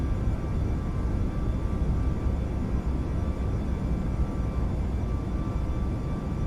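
A Boeing 737 MAX 8 departure in Microsoft Flight Simulator 2020 gives off a steady, low engine rumble. The broad roar holds at an even level throughout, with no voices.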